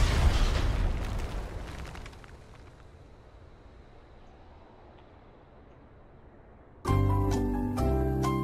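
A grenade explosion in the video game H1Z1 booms at the start and rumbles away into a fading roar, followed by sudden bright game-like music.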